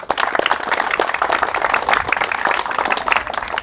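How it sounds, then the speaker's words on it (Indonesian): Audience clapping and applauding after a martial arts training session, a dense, steady patter of many hands filling the full few seconds at close range. "tepuk tangan"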